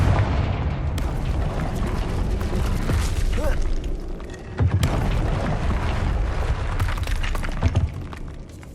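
Confringo fire-blast spell explosions in Hogwarts Legacy, a dense stream of booming blasts and crackling impacts with sharper bursts near the middle and end, loud and continuous without speech.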